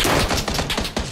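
Rapid video game gunfire rattles in a dense burst, several overlapping shots crackling loud and close in quick succession.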